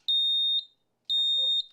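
Two loud, piercing electronic beeps from a smoke alarm, each about half a second long, separated by a short pause, with a brief murmur of something after the second.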